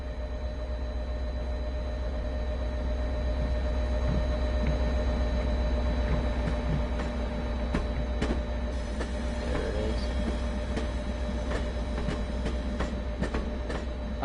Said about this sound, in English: I like it when the train goes across this diamond right here. It has a satisfying sound.